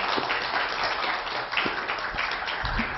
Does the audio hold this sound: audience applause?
yes